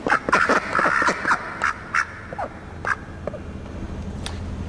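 Ducks quack in an echoey warehouse room, a cluster of loud, close nasal quacks early on followed by a few sparser calls against a quiet reverberant background.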